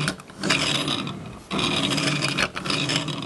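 Plastic wheels of a Maisto Captain America toy plane rolling across a surface, a continuous raspy scraping roll in two long passes with a brief pause between, close and fairly loud, no talking.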